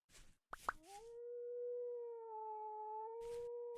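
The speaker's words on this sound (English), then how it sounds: "There's wolves everywhere." Wolves howl in the Vintage Story video game: one long, rising, sustained howl rings out clearly after a few short knocking sounds, with no talk.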